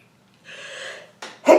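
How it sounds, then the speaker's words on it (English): A single sneeze: a sharp inhaled gasp builds briefly, then a quick catch and a loud, explosive burst close by. "I'm going to sneeze."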